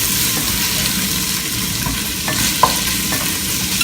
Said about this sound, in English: going to just throw in the chilies just to let them fizzle with the onion and the pepper